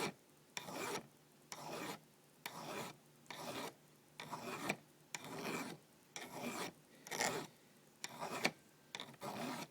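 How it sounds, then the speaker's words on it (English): A metal file rasps against the broken tip of a knife blade, reshaping it to a point in about ten steady back-and-forth strokes, each a loud, close scrape separated by short pauses, with no talking. "So I'm going to round it a little more and keep filing until I bring it to a point."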